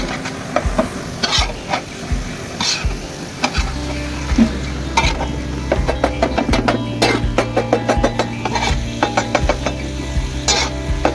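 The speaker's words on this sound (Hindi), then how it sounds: "कीमा को हम अच्छी तरह फ्राई करेंगे जब तक इसका कलर चेंज ना हो जाए।" Minced chicken keema fries in hot oil on a tawa, dhaba style, with a constant loud sizzle broken by frequent sharp scraping and clanking strokes of a metal spatula stirring against the pan.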